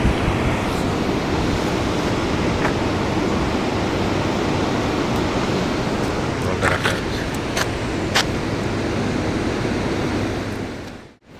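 Water rushing at a hydroelectric power plant near Jhalong in the Dooars hills, a loud steady broadband roar filling the whole clip with a few faint clicks, cutting off abruptly at the end.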